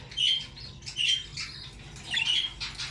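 A yellow pet bird, a jumbo budgerigar, gives several sharp squawks in separate bursts, close and fairly loud over a low background hum.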